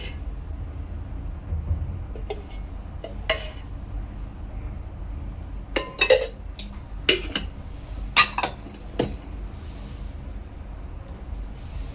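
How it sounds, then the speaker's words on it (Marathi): Oil ladled into a kadhai, with a quiet low background hum and a series of sharp metallic clinks and taps from ladle and pan, clustered in the second half. "आता इथे कढईमध्ये 2 ते 3 पळ्या मी तेल टाकणार आहे।"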